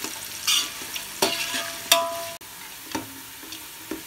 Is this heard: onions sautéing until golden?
yes